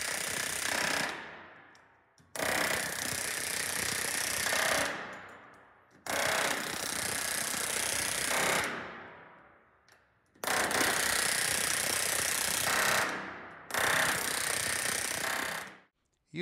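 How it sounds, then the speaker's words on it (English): A pneumatic rivet gun driving rivets against a bucking bar on a van trailer composite panel, loud sustained hammering bursts of several seconds each, separated by short pauses. "you can tell the difference in pitch between when the rivet is being shot, when the bucking bar is on the rivet"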